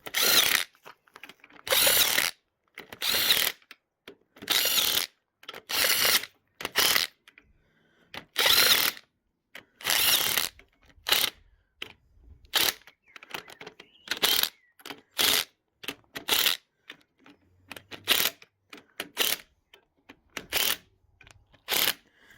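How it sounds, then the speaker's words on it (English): Bolts on a Nissan S13 fuel tank being run down with a power ratchet, a long series of loud, close bursts of buzzing rattle, each a second or so long, separated by short pauses. "So just go over those with a ratchet"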